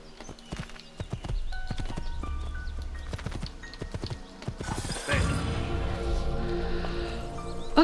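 Horse hooves clip-clop at a gallop in Assassin's Creed II, a steady rhythmic pounding with occasional whinnies, loud and close under game music and effects.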